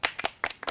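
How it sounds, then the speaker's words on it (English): A small hiking group outdoors claps for themselves after a trail walk, a handful of sharp, close claps in an uneven burst, brief and not yet a full round. "Can we give ourselves a round of applause?"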